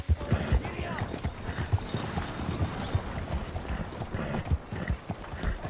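Horse hooves clop rapidly in a steady galloping rhythm in the western game Red Dead Redemption, loud and close, with voices talking over them.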